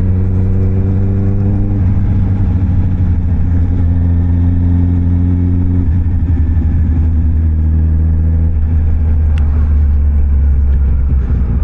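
A Honda CB650 motorcycle rides on an errand run. A steady, loud engine drone runs under wind noise, and the pitch drops at a few gear changes.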